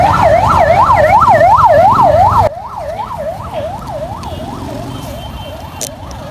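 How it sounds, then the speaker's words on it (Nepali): An ambulance siren wails in a fast, repeating rise-and-fall at a road crash scene involving a truck and scooter near Ghattaghar, Bhaktapur. It is loud and close at first, then drops suddenly to a fainter, steady wail. "एम्बुलेन्स"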